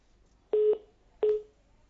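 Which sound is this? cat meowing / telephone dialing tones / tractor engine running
telephone dialing tones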